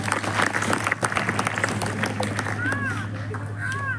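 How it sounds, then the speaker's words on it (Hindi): An audience claps for a child in a crowd, a brief burst of applause that fades, with people talking and a steady hum running underneath. "इसके लिए ताली बजाओ"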